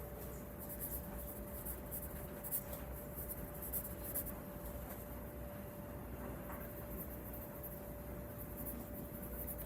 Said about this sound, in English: I'm just going to write that down